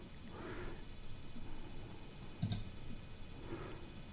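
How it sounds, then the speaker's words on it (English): A computer mouse gives a single sharp click midway, close but quiet, over a soft background hum, with faint murmured speech around it. "I'm just going to click right here"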